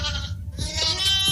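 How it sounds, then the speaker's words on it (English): A sheep lets out a single short, nasal bleat lasting about a second, fairly close and alone with no talking. "Huge sheep."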